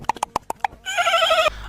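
A horse gives a loud, close whinny that rises and wavers for about half a second, preceded by a quick run of sharp clip-clop hoofbeats.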